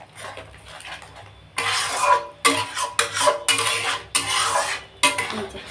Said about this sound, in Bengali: আর এই যে মাংসটা এবারটা চাপিয়ে দিচ্ছি